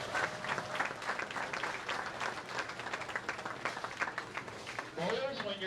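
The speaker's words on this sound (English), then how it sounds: "let's give these athletes a big round of applause as they begin their tournament competition" Crowd applause for junior bowlers starting tournament play at a bowling center, a dense patter of many hands clapping, fairly faint and distant, with voices talking over it.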